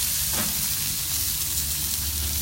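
Onions sizzle on a flat-top grill, giving a steady, close frying hiss with a soft crackle that holds evenly for the whole short stretch, with no talking.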